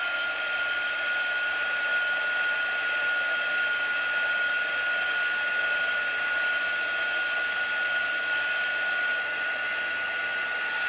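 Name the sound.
hair dryer drying chalk paste on a craft board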